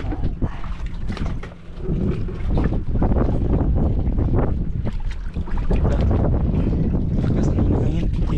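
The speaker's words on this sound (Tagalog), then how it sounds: "Lakas ng hangin." Strong wind buffets the microphone in a constant roaring rush, with gusts swelling and easing, over water sounds on an open boat.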